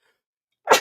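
A single sharp, close sneeze bursts out after a moment of silence.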